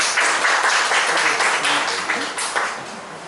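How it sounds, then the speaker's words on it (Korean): Audience at a human rights and peace forum in Goyang clapping to welcome speakers, fairly loud applause with distinct claps that gradually thins out toward the end. "박수 한번."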